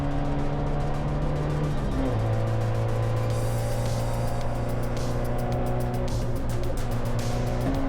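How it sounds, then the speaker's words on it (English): A 40-year-old Toyota race car in an endurance race overtakes a Hyundai Getz through a corner, its engine droning steadily and close with pitch shifting as it works through the turn, loud and continuous with no talk. "I was also able to get around the inside of the Getz on the next corner."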